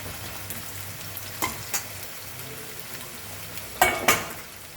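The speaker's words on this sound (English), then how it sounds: "So we'll fry this for a few minutes on medium high flame." Mutton sizzles steadily in a pan over a medium high flame, a soft continuous frying hiss broken by a few sharp clinks of a utensil stirring against the pan.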